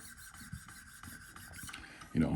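Steel Spyderco knife blade stroked across coarse 100-grit Wicked Edge abrasive stones while resetting a bevel, producing a steady rhythmic rasping scrape that repeats about every half second, with a louder, heavier rub at the end.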